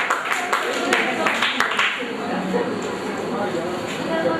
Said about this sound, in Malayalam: ഒന്ന് കൈയടിച്ച് നമുക്ക് നമ്മുടെ സന്തോഷം എന്ന് അറിയിക്കുകയും ചെയ്യാം